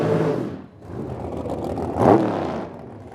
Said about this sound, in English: Another pair of dragsters now.